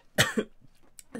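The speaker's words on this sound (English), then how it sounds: "That's the cough of somebody who knows they've done something wrong." A single sharp cough close by, a short double burst that fades into quiet, followed by a faint click and the start of another brief vocal sound.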